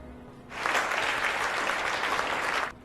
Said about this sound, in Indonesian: musik berhenti dan orang-orang termasuk Woju memberi tepuk tangan untuk penyanyi itu.